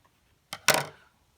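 Scissors snip at a small yarn pom-pom for a Pikachu craft, giving two quick, close, crisp cuts a moment apart, then quiet.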